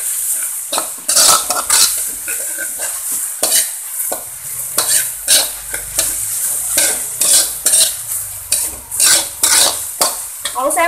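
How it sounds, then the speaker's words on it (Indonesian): A chili and squid mixture sautés in a pan for a spicy grilled liwet rice dish, with loud, continuous close sizzling and repeated scraping and stirring strokes of a utensil against the pan. "Kita tumis sampai layu"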